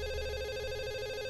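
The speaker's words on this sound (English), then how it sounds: "Telephone. Answer the phone." A telephone rings inside The Assembly, a VR game, a steady electronic tone with strong harmonic bands held throughout without pause, moderately loud and heard alone without talk.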